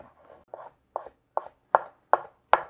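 A knife chops vegetables on a cutting board, about eight crisp, evenly spaced strikes that grow louder and sharper toward the end, close and alone.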